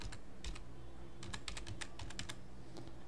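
Python code is typed on a computer keyboard in quick uneven bursts of clicky keystrokes, close and fairly quiet, with short pauses between clusters and no talking.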